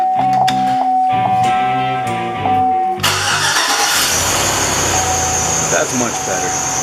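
A 2005 GMC Sierra pickup with a freshly repaired exhaust cranks over with a rhythmic starter whir, then catches and settles into a loud idle, heard close.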